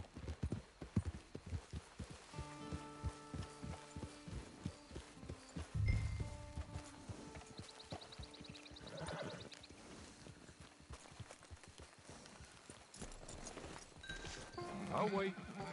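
Horse hooves clip-clop steadily with a neigh and sheep bleats around a camp in the Red Dead Redemption Online video game, heard under game music and occasional speech.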